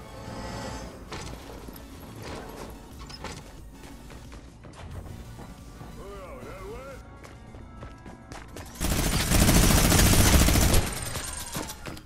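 Brutus' minigun firing in a video game: a low bed of game noise and footsteps gives way to a loud, rapid burst of continuous gunfire lasting about two seconds before it stops.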